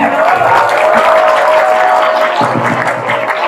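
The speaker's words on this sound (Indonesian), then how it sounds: "tepuk tangan, tepuk tangan, tepuk tangan" A crowd at a Maulid Nabi Muhammad commemoration applauding, loud and close, a dense sustained wash of many hands clapping with a faint tone and murmured voices underneath.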